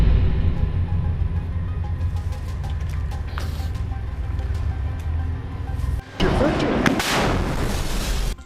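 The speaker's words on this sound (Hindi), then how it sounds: "अल कासिम के लड़ाके खंडहर पड़ी इमारतों में छिपकर सामने से आ रहे इजरायली टैंकों पर रॉकेट से वार करते हैं" Sustained combat gunfire and heavy booms from fighters firing rockets at Israeli tanks among ruined buildings, steady and loud throughout with a sharper, louder burst of blasts near the end.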